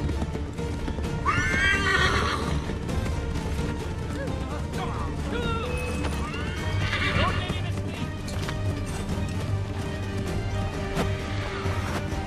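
A horse in the video game Assassin's Creed 3 gives two loud, shrill whinnies several seconds apart over steady galloping hoofbeats, amid a busy game soundscape with scattered crashes.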